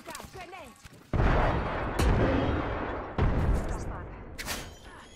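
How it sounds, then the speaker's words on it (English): Grenades go off in an Apex Legends match as several loud, close booms with a rumbling roar that lingers between blasts. Sharp crackling bursts follow, with a brief voice near the start. "That's another grenade."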